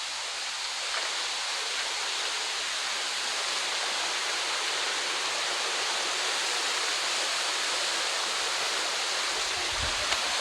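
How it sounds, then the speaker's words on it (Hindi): Waterfall plunging from a great height near Rishikesh, a steady, dense rushing roar with no pause, close and loud, with no voices over it. "और ये देखिए कितनी ऊंचाई से वाटरफॉल गिर रहा है।"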